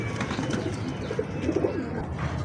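A young golden pigeon coos in short, soft, repeated pulses, close by against a faint background hum, with no talk.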